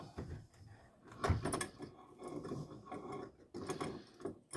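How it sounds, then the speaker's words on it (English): Metal C-clamps being loosened on a leather belt-curving setup, a few quiet ratcheting turns and clanks in close, irregular bursts with pauses between. "So now I'm going to loosen my C-clamps."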